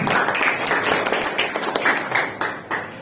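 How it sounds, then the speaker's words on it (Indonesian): Students in a civics classroom clap for a classmate, a brief patter of moderately loud applause with irregular individual claps throughout. "Tepuk tangan untuk Lutfi, luar biasa."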